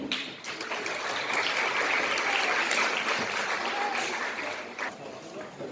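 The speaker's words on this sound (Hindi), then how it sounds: "जोरदार तालियां." An audience at a school prize ceremony applauds a prize winner with a long, steady wash of clapping that swells and holds, then tapers slightly toward the end, heard from a moderate distance.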